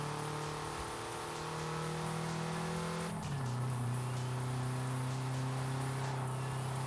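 A car engine in the Forza Horizon racing game holds a steady droning pitch, then drops sharply to a lower sustained tone as if shifting gear, continuous and fairly close with no talk.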